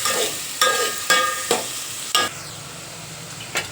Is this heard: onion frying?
yes